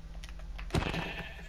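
A sheep in Minecraft gives one short bleat, faint and brief against quiet background noise, with light clicking beforehand.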